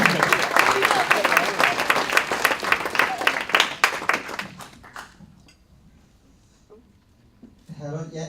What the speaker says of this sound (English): Give me a round of applause, come on.